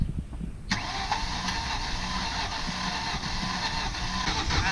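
A Ford Mustang with a rod knock and a service-engine warning cranks and catches, then runs at a steady, rough idle close by after a short click, with no voices.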